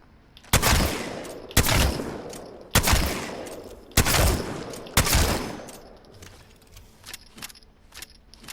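Five sharp, loud Mastiff shotgun blasts in a video game, fired at a steady pace about a second apart at targets, each with a ringing tail, followed by quieter clicks and clatter.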